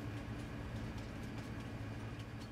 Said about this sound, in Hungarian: Ez kurva jó az a vonat.